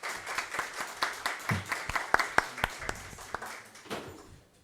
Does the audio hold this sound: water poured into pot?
no